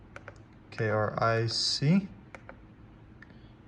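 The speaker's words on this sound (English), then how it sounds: "I can go over here to my keyboard" Keys clicking on a computer keyboard while a flight plan is entered, a few short taps around a brief spoken word, then scattered faint clicks in a quiet room.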